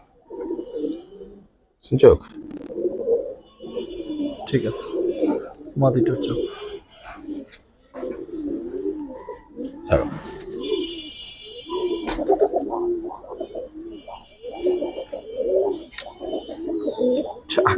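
Giribaz pigeons, a colouring breed offered for sale, coo repeatedly at close range beneath almost continuous conversation between two men.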